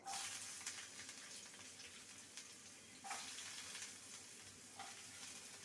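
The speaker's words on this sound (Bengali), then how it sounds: "পেঁয়াজটাকে ভেজে নেব হালকা" Chopped onion, added to oil already tempered with whole cumin, fries in a pan with a soft, steady sizzle and a few brief louder surges of stirring.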